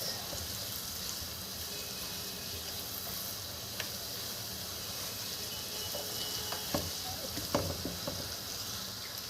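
Onion sizzles and fries in a pan with a steady, soft hiss and occasional small pops and crackles. The sound is quiet and no one speaks.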